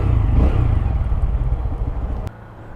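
A Honda Monkey motorcycle engine runs close by at a steady low idle with some mechanical clatter while the bike pulls in to park, then cuts off abruptly near the end, leaving a quieter hum.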